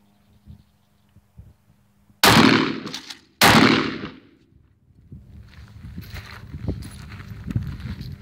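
Two sharp, loud shots from a Tac 14 firearm about a second apart, each with a ringing decay, followed by quieter handling noise and shuffling.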